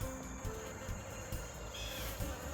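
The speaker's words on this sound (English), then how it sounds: "Hi, little bees. Do your pollinating." Bees buzz faintly around flowering garden plants such as fennel outdoors, a soft continuous drone with no one speaking.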